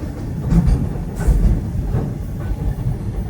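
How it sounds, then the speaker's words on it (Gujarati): A freight train moves past carrying loaded trucks on a roll-on roll-off rail service, its low continuous rumble steady and fairly loud with faint wheel clatter, no voices. "આ ટ્રેનની અંદર અમારો ટ્રક જઈ રહ્યો છે"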